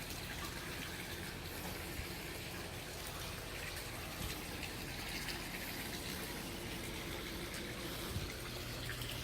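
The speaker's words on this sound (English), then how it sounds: "Little waterfall here." Water from a small waterfall splashing into a backyard pool, a steady, even rushing and gushing that stays fairly close and constant throughout.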